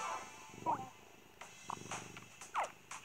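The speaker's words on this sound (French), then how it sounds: "Je pense que vous l'entendez, le chat, vu le bruit qu'il fait." A cat purrs in a Playmobil house video game, a soft rhythmic rumble pulsing under a person talking, with occasional short higher vocal chirps.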